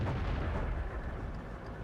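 Tank cannon fire in a tank video game, a dense, continuous low booming rumble of distant shots that keeps going steadily, with no voices over it.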